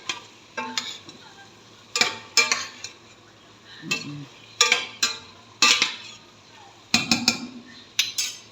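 A utensil stirs potatoes in a cooking pot over a mild sizzle, giving a series of clattering scrapes and clinks against the metal in irregular bursts, close up, with occasional quiet talk.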